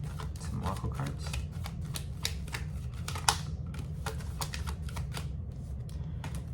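Oracle cards being shuffled in the hands, a rapid series of crisp riffling flicks and snaps, close and fairly quiet, repeating steadily with no talk over it.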